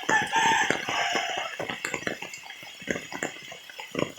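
Chickens cluck and a rooster crows close by during flooding, with scattered splashing and clattering noises throughout.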